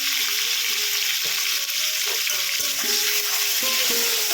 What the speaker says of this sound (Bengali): এবার হালকা করে শিমগুলো আমি একটু বেশি ভাজতে হবে না, এটা অল্প ভাজতেই হবে।